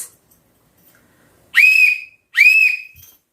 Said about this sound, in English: if you hear me whistle twice like this